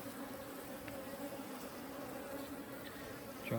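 Africanized honey bees at a hive in Arizona make a continuous droning buzz that stays steady and moderately loud close by, with a few louder passes near the end.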